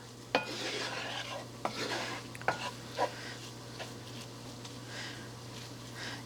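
Milk is stirred into flour and sausage in a pan, producing a quiet, continuous scraping and gentle sizzle with occasional clinks of a utensil against the pan over a steady low hum.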